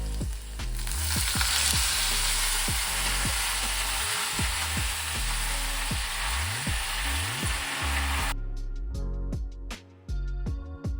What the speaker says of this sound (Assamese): পিঁয়াজখিনি অকণমান ৰঙচুৱা হোৱাকৈ ভাজি লৈছোঁ